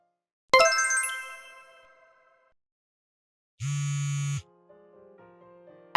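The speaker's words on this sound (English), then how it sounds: "can you answer the phone?" Ringing electronic phone tone, a bright chiming burst that rings out and decays, followed later by a short buzzing tone and a soft melodic electronic phrase, heard alone with no talking.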